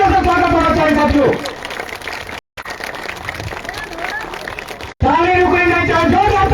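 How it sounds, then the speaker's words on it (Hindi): Crowd applause at a party workers' meeting in Maharajganj rises in a dense wash between stretches of loud amplified speech from an announcer on stage. "जोरदार तालियों से स्वागत होना चाहिए साथियों"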